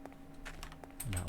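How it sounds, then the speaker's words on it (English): Quiet, fairly distant clicking of keys on a mechanical keyboard, a handful of irregular taps against a low background hum, with a brief louder burst at the end. "Mechanical keyboards."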